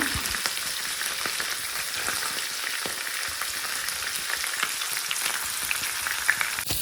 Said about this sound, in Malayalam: വെളിച്ചെണ്ണ ഒഴിച്ചിട്ട് കുറച്ച് കറിവേപ്പില ഇട്ടിട്ട് നമ്മൾ ഈ മസാല പിടിച്ച മീൻ നമുക്കിതിലേക്ക് ഇട്ട് കൊടുക്കാം. എന്നിട്ട് ഫ്രൈ ചെയ്തെടുക്കാം.